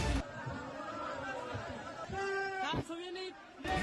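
Crowd of Afghan refugees in Pakistan chattering, a dense babble of overlapping voices close by with one or two louder calls rising above the murmur.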